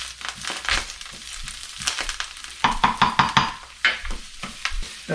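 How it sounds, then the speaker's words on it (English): Shallots sizzle in a hot pan for shrimp scampi, with crackling bursts, irregular stirring and scraping clatter nearby, and no talking. "We're going to add our shallots in here."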